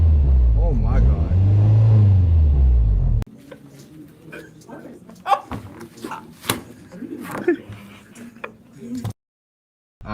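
Honda B20 VTEC engine idling with a fluctuating idle, a loud low rumble with wavering pitch for about three seconds before cutting to quieter background noise and talk.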